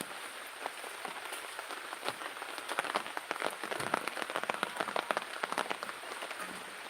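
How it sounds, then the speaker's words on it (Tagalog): Heavy rain pours down on a pineapple field, a dense hiss of drops pattering on surfaces that grows heavier and busier in the middle, with no talk. "Kasi ang lakas ng ulan."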